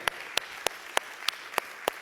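A church congregation claps during a sermon, a handful of sharp, evenly spaced claps about a third of a second apart, close and moderately loud, with no voices.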